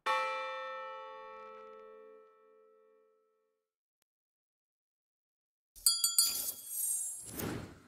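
A bell struck once in the video game Traitors in Salem, a loud clear toll that rings out and fades slowly over several seconds, followed after a pause by a bright clinking, shattering burst.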